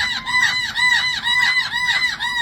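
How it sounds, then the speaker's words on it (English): Noisy parrots squawk loudly and repeatedly at close range, a rhythmic run of harsh, arching calls with no talking. "Oh, is it them noisy parrots again?"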